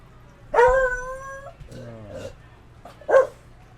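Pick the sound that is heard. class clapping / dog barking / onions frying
dog barking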